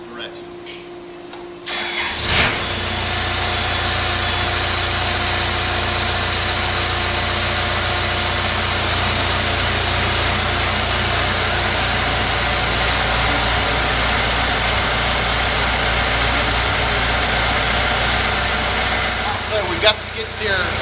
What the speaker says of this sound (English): the next thing we're going to do is crank the tractor and engage the auxiliary hydraulics to make sure that the